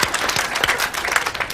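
An interview audience breaks into applause, a dense patter of many hands clapping at moderate distance, steady and unbroken throughout.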